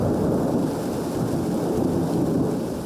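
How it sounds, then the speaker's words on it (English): A steady dawn rain shower during a passing spell of wet weather, its broadband hiss of falling drops continuous and fairly loud throughout with no voices, a low rumble underneath. "and it's raining again"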